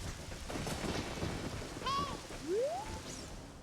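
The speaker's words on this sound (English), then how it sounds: "definitely a dark and stormy night in Kakariko right now" Steady rain hisses through a thunderstorm at night in Kakariko village in Ocarina of Time, with low rumbling beneath and brief rising synthetic tones sounding over the wash.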